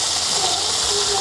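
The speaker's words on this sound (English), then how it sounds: "Hear that sizzle?" Smoked back bacon sizzles and hisses in a hot pan, a dense, steady frying crackle heard up close for a brief moment.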